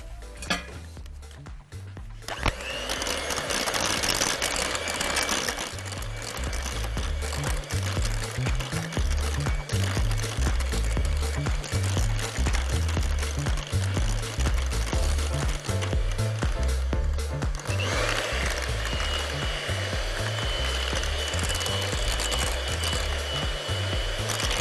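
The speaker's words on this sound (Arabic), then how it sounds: "نضرب الكلام ده مع بعض. واحنا عندنا المضرب الكهرباء صح؟" An electric hand mixer beats a cream mixture for Layali Lebnan dessert, a loud steady buzzing drone with clattering against the bowl that starts after a brief quiet moment and runs on continuously.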